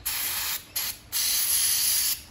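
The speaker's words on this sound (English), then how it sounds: "We'll give this main jet a bit of a spray as well with the carburetor cleaner" Carburetor cleaner hisses from an aerosol can onto the main jet of a Victa Turbo Disc lawnmower carburetor. It comes in three close bursts, two short and then one longer spray, with no talking.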